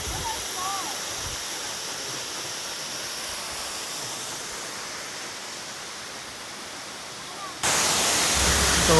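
Waterfall at the Santa Elena ecotourism site, a steady broadband rush of falling water that holds level throughout and swells suddenly louder near the end, with faint voices beneath.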